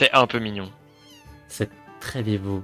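A cat meows a few times in a video game trailer, clear and close, with French-speaking voices talking over and around it.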